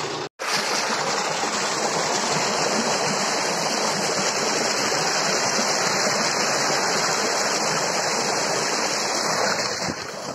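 Rushing stream water, a loud steady broadband roar that fills the whole stretch close by, with no talking over it.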